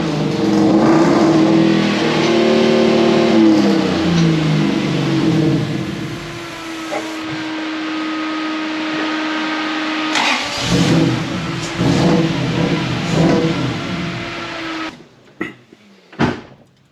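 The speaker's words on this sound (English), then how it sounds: "you can hear the engine change its pitch and run a lot freer, rev a lot freer" A Toyota 1UZ V8 fitted in a Surf, running lean with faulty coil wiring, revs up and holds a steady loud idle-like drone, then blips sharply several times near the end.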